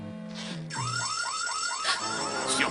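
Electronic alarm on Bowser's pipe-blocking machine in the Super Mario Bros 3 cartoon: a run of rising, warbling beeps repeats rapidly and loudly after a short tonal lead-in, with no talking over it.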